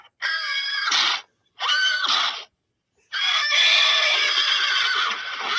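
A recording of a horse neighing plays aloud: two short shrill whinnies separated by brief gaps, then a longer drawn-out whinny, loud and close.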